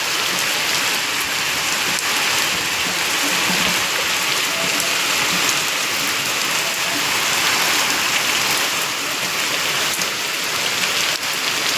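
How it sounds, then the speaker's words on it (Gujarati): Heavy rain falls at night in a continuous loud, even roar of drops with no break and no voices. "વરસાદ બહુ ચાલુ થઈ ગયો છે"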